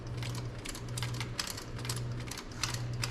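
Ratcheting wrench clicking under the hood of a WS6 Trans Am, a rapid, steady mechanical ticking in repeated bursts over a constant low hum, close and moderately loud.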